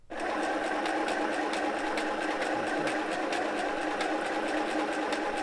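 A Buart mini sewing machine runs a seam in one steady, even whirring hum with a fast mechanical tick, close and continuous from start to finish with no talking.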